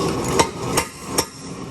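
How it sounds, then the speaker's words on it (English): A DuPont-style mechanical power hammer with a spring-linkage floating ram strikes three loud, evenly spaced blows in a workshop, each a sharp close metallic impact. "the hammer relies on over travel to hit things"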